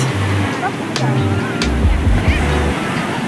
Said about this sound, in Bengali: ঢেউয়ের কি আওয়াজ!